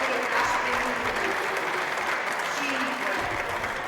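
Steady applause fills the Italian Senate chamber after a confidence vote on a new government, a dense, even wash of clapping from many senators that holds throughout.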